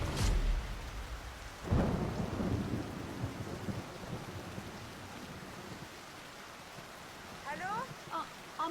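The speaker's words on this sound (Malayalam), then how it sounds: "ഇവിടെ നല്ല മഴ പെയ്യാ." Heavy rain falling steadily with a deep rumble of thunder, ending in a few faint chirps, in a Malayalam film scene set during a rainstorm at night.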